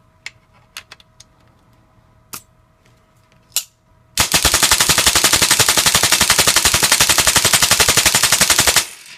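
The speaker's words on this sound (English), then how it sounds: "So, it's a pretty good rate of fire. You know, they're going to be anywhere from around 8 to 12, you know, BBs a second or shots a second." A Tippmann M4 paintball marker fires a long, steady burst of rapid shots, around ten per second, loud and close, after a few scattered clicks and handling taps.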